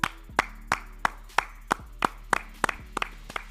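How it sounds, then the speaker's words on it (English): Sharp, evenly spaced hand claps on a sports podcast, about ten crisp claps over a few seconds with a faint background hum and no talk. "Clap it up."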